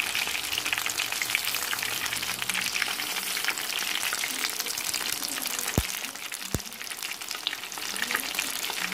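Chilli chicken frying in a pan gives a loud, dense, continuous sizzle close up, with two sharp clicks partway through.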